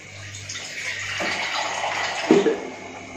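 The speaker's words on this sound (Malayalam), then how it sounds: "കുറച്ചും കൂടെ വെള്ളം കൊടുക്കാം." Water pours steadily into a pan of palak mushroom gravy, a continuous splashing stream close by that grows fuller midway and ends with a louder slosh.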